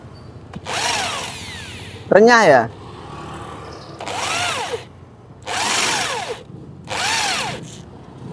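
A power drill bores into a broken bolt in a damaged Yamaha crankshaft, running in four loud bursts with short pauses between them. Someone speaks briefly between bursts.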